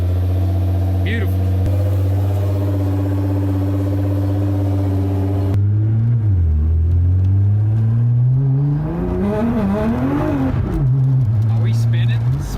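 A Nissan GTR engine idles steadily, then revs hard and swings up and down in pitch as all four wheels spin on a wet surface, loud and close, with people talking over it.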